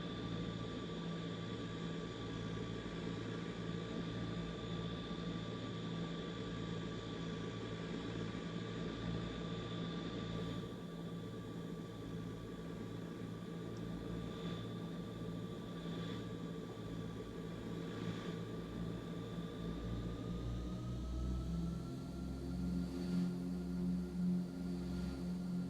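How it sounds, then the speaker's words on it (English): Aer Lingus Fokker F27 turboprop taxiing to the runway, heard as a steady droning engine hum with a faint propeller whine, even and continuous from inside the aircraft, rising slightly near the end. "we're just going to taxi on out to the runway"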